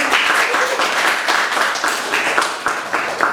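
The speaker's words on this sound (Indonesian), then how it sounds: "Kelompok 1 silakan beri tepuk tangan kepada kelompok 1" Students in a classroom applaud group 1 with steady, close, dense clapping that fills the room from start to finish, with no voices on top.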